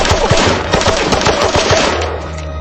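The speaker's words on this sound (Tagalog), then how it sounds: "Napaatras si Ji-hoon at nagpaputok ng baril." A handgun fires in a tense indoor horror scene, the shots coming as a rapid, loud string of sharp cracks that blur into a burst before tapering off.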